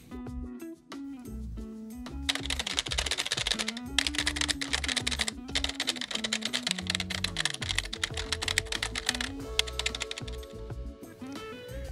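Fingers type steadily on a retro-style computer keyboard, making a dense run of crisp key clicks under music that plays throughout.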